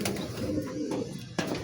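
Pigeons in a racing pigeon loft coo with a soft, low, continuous murmur, close by and steady throughout, with no talking.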